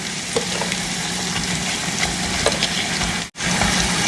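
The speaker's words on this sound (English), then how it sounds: "Then we're going to stir them all up and get them really well combined." Seasoned potatoes being stirred in a hot pan, a dense steady sizzle with scraping and clinking of a utensil, close and fairly loud, with a brief cut near the end.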